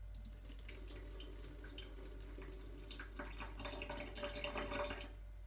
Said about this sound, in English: So we're getting ready to pour now.